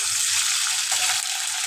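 Ginger garlic paste frying in a pan gives off a steady, close, continuous sizzle and hiss with no one speaking.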